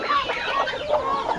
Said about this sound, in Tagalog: At dito may manok.